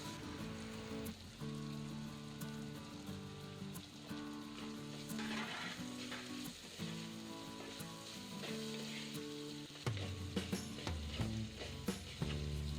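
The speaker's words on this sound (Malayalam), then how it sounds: "ഇനി ഈ സവോള ഒന്ന് വാടി വരുമ്പോൾ അതിലേക്ക് എടുത്ത് വെച്ചിട്ടുള്ള തക്കാളി ഒന്ന് അരിഞ്ഞിടാം. പച്ചമുളക് അരിഞ്ഞതും ഇടാം." Onion, chopped tomato and green chillies fry in a pan for a Kerala chicken mulakittathu, a faint constant sizzle running under tonal background music throughout, with occasional clicks and stirring; no talking.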